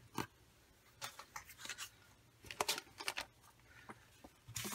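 Scissors cut a planner sticker sheet in half with a series of quiet, close, crisp snips, each followed by a faint rustle of paper.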